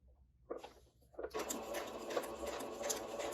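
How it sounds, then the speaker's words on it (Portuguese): A domestic sewing machine stitches slowly around a circular seam, starting with a few hesitant mechanical clicks before settling into a soft, steady, close-up whirring run. "Aqui no caso da costura de círculo, é a mesma questão de costurar seguindo a linha. Vocês estão vendo que eu tô indo bem devagar."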